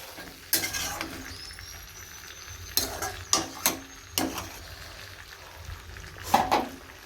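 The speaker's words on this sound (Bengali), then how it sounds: "এখন সব রকম মশলা আর একটা আলু দিয়েছি আজকে আলু দিয়ে কষাচ্ছি" Chicken with mixed spices and potato is stir-fried in a pan, with a steady low sizzle broken by a series of sharp, close scraping strokes of a spatula at irregular intervals.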